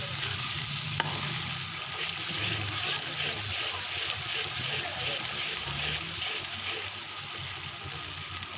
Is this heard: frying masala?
yes